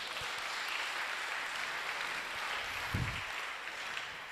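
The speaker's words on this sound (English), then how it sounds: "To everyone in the house, can you give yourselves a big round of applause?" A concert-hall audience at an opera symposium in Kimberley, Northern Cape, applauds steadily throughout, a dense even wash of many hands clapping with no voices standing out and a brief heavier thump near the end.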